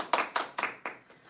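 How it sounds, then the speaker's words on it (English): A few people clapping for Year 2 children at a school celebration assembly, about five distinct claps in a slow, uneven rhythm that fade toward the end, fairly close and sparse. "Should we give those Year 2 children a big round of applause?"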